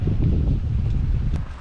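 Blustery wind on a dark, overcast, drizzly day buffets the microphone with a low, rumbling roar that stays steady for a moment before easing off; no one speaks.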